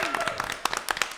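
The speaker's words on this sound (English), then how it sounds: "Y'all give them a round of applause real fast." A live audience at a holiday special show at Sophia's breaks into brief applause, a dense patter of clapping hands that is fairly close, with a voice speaking over it.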